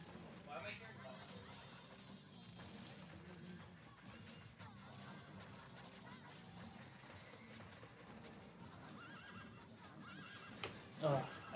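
A horse neighs in the video game Patapon amid dense game music and clatter, with a person talking over much of it and a sharper burst near the end.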